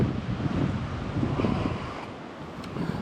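Strong coastal wind at Whitby buffets the microphone in a continuous loud roar, with gusts rising and falling throughout.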